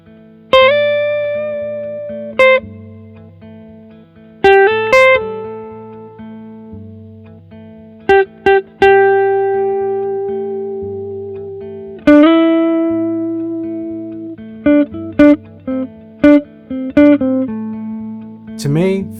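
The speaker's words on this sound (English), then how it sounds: "Here's a more subtle example of varying note length in a guitar solo." Electric guitar solo with clean, sustained notes that alternate between short, clipped plucks and long held tones. The phrases are separated by brief pauses, and the guitar plays alone and up close.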